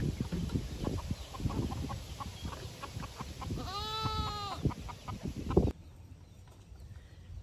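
Chickens clucking and squawking in a barnyard, with one drawn-out rising call in the middle, fairly close and moderately loud.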